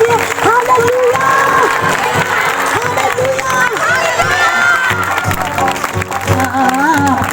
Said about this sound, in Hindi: आइए आप जोरदार तालियों से प्रभु के दास का स्वागत करें। ताली बजाएं परमेश्वर के लिए।